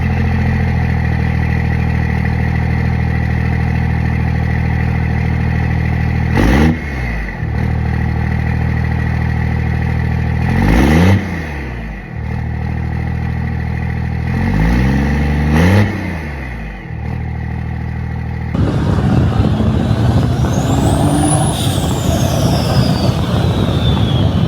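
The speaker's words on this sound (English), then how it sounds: "I have a ton of different sound clips from this compound setup, so I'll go ahead and insert those now so you guys can hear it" A second-generation truck diesel engine with a compound turbo setup idles and revs, loud and close, with several rising-and-falling throttle blips over a steady rumble, then a sharper whistling turbo spool near the end.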